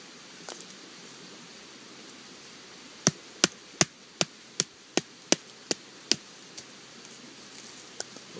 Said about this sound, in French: la lame pénètre vraiment facilement dans le bois